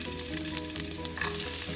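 Green chilies hiss and sizzle in hot oil in a pan for a mung bean sprout dish, a close, continuous crackle with light stirring noises and no talking.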